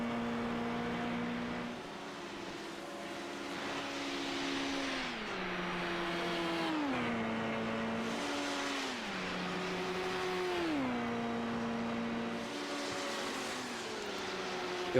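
LMP1 and LMP2 sports prototype race cars circling a Belgian circuit in a sports car championship race, engines droning steadily with repeated pitch drops at gear shifts, moderately distant and continuous with no voices.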